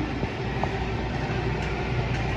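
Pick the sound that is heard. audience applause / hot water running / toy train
toy train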